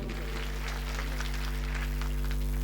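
Faint, distant clapping from a crowd at the three-day Jalal fair, honouring a police officer, heard as a soft patter over a steady electrical hum.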